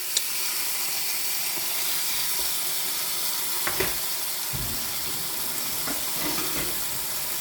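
A steady, loud sizzle of food frying in a pan, continuous throughout with a few soft clicks and bumps of handling partway through.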